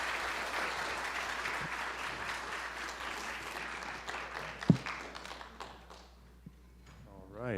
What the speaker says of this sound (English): Everybody give a round of applause for our featured speaker.